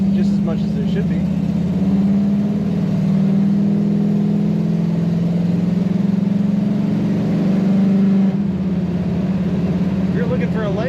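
A 1964 Chevrolet Impala SS two-door hardtop cruising with its rumbling exhaust, a loud steady low drone that rises and eases slightly as it drives, close and continuous with no talk.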